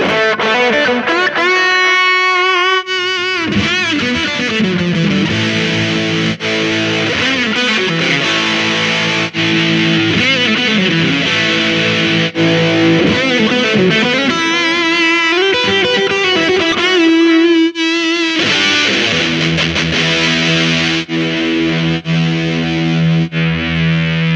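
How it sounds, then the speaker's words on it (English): Heavily overdriven electric guitar through a GE100 multi-effects pedal rings out loud and sustained, its distorted tone shifting between tube driver, juicer drive, vintage OD and super drive modes, with brief pauses between phrases. "I can choose tube driver or juicer drive or vintage OD or super drive, and they all have different sounds"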